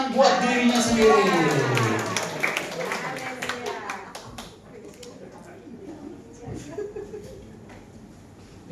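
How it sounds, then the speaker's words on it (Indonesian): A church congregation claps together in loud applause that swells at the start and then fades into scattered claps and murmuring, while a few voices speak underneath. "Tepuk tangan buat dirinya sendiri."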